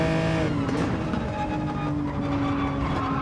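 A race car in Gran Turismo 7 at the Nurburgring brakes for a right-hand curve, its engine a loud, continuous, close roar that shifts in pitch throughout.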